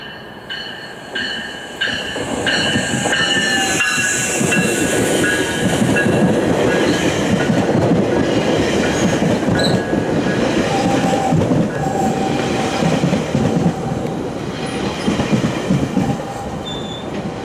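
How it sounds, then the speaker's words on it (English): A GO Transit passenger train approaches and rolls through a railroad crossing, building to a loud, sustained rumble with rhythmic wheel clatter and metallic squeals, nearby and steady to the end. "this is probably him on the GO transit train"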